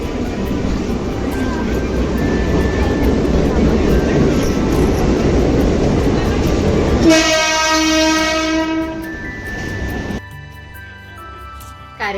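A train runs through Vasai railway station with a loud, close, rumbling roar, then a long, sustained horn blast sounds for several seconds before a quieter tonal hum follows.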